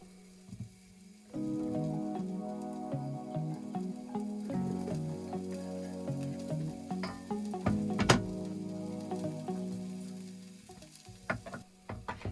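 Chopped vegetables, including onion, fry gently in a single pot for stinging nettle soup, giving a steady close sizzle and crackle with occasional stirring clatter and a sharp knock partway through.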